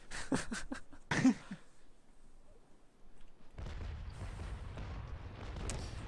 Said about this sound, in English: It seems like they're shooting grape.